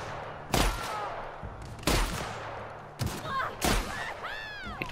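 Gunfire in the video game The Outer Worlds comes as several sharp, loud bursts spaced about a second apart, close, with electronic whooshing game effects between them and no talk.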